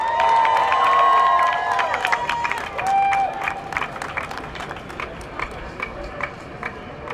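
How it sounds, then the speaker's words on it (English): Clapping and scattered cheers from an outdoor rally crowd for Iggy Floyd at a 2015 rally for a Civilian Police Accountability Council, loud at first and then fading into sparse claps, with whistles and a voice over a PA briefly present. "one more round of applause for Iggy Floyd"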